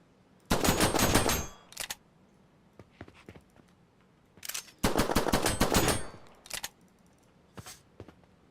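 Rifle gunfire in a video game with weapon switching: two long, loud rapid-fire bursts, separated by scattered single shots and clicks against a quiet background.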